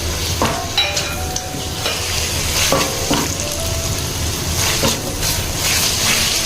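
Cashews and green chilies fry loudly in a pan for an egg curry, a steady sizzle with scattered scrapes and knocks from the spoon as they are stirred.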